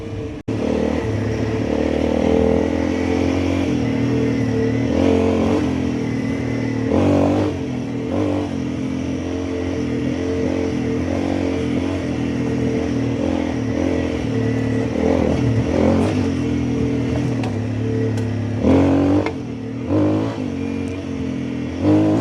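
Dirt bike engine pulling steadily in second gear on rough terrain, riding on Tusk D-Sport tires at 15 psi, a continuous close, loud drone with repeated throttle surges and occasional clatter from the chassis, no talking.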